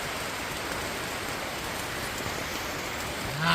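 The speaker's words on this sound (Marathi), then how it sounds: "बापरे जोरदार पाऊस" Heavy rain pours down on a forest campsite in a steady, dense hiss with no pauses, drumming on a surface throughout.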